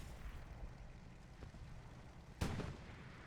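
A medium tank fires in the Hell Let Loose video game on the Driel map near a brick factory: a single sharp, distant-sounding boom over a quiet low rumble, with a faint earlier thud.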